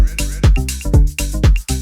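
A tech house track pumps along with a deep kick thumping in a steady four-on-the-floor pattern under choppy, cheesy vocal snippets and bright synth stabs, loud and dense.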